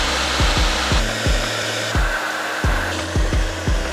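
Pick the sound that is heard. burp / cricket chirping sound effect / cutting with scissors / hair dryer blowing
hair dryer blowing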